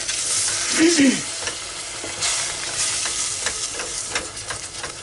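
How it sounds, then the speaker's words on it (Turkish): A litre of milk is poured a little at a time into a pan and stirred for muhallebi pudding. A close, continuous hissing, sizzle-like wash carries a few soft scrapes and clinks of stirring. "Üstüne de bir litre sütü böyle azar azar döküyorum hepsini yavaş yavaş topaklanmayacak şekilde"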